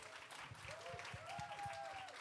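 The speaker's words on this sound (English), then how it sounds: "Let's give them a big round of applause." Applause from a live audience at a health and wellness panel talk in London, a steady patter of clapping from a modest crowd over about two seconds, with a faint tone and murmur mixed in.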